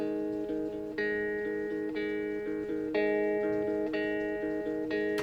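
Two separately recorded guitar parts, one panned left and one right, ring out sustained chords with clear note onsets about once a second, steady and moderately loud with no voices.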